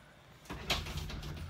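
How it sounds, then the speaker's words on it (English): A bedroom door is pulled shut indoors, a soft thump with a brief rattle, followed by low room noise. "can you close my door for me?"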